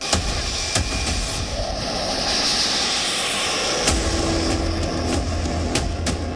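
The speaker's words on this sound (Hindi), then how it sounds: "तेजस की तूफानी उड़ान" Tejas fighter jet in flight, a steady broadband roar of jet engine noise holding at a constant loudness throughout, with a low rumbling hum and no voices.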